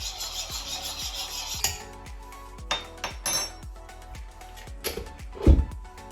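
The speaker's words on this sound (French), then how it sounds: "Je remue afin de délayer cette levure." Fresh yeast stirred into lukewarm water in a bowl gives a run of light clinking, tapping strokes against the container, sharper knocks now and then, close and moderately loud with no talking.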